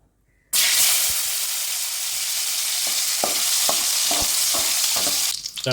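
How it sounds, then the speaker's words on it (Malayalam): Raisins drop into hot ghee in an uruli pan and burst into a loud, continuous close sizzle after a quiet start, with occasional knocks of a spoon stirring against the pan. "ഇനി നമുക്കിതിലേക്ക് ഉണക്കമുന്തിരി ഇട്ട് അതൊന്ന് വാർത്ത് പോരാം"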